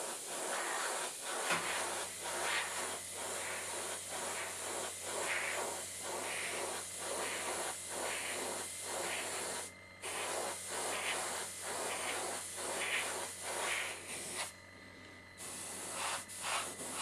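Steady airbrush hiss priming a weathered steel scale model, continuous close spraying for several seconds with brief pauses and a low constant hum underneath.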